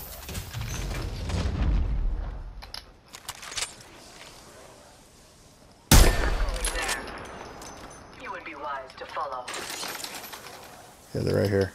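Video game gunfire crackles in bursts, a sharp loud volley near the middle followed by scattered shots and rattling fire, mixed with game effects and heavy talk over it.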